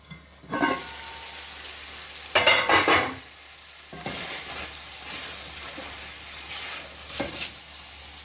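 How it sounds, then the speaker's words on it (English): Cornstarch mixture goes into a pot of Jamaican steam fish and gets stirred, giving soft sizzling and bubbling with a few scraping, clinking spoon strokes in short bursts against the pot. "So adding our cornstarch that I've just mixed to the pot."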